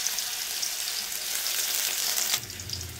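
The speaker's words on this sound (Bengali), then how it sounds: "তো এখন আমি এই তেলের ভিতরে দিয়ে দেবো সেই পেঁয়াজ কুচি, একটু ভাজা ভাজা করে নেবো পেঁয়াজ কুচিটা।" Chopped onions fry in hot oil for upma with a steady, close hiss that cuts off abruptly near the end, leaving a softer, lower rumble.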